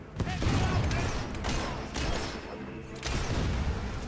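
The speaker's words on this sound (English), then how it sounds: "We're under fire!" Gunfire and explosions in the Fable 3 video game battle, bursts of shots and booms rising and falling over a few seconds, with voices shouting in the mix.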